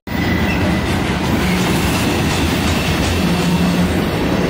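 A train rolls past close by, a loud and steady rumble with rattling wheels that keeps up the whole time and has no talk over it.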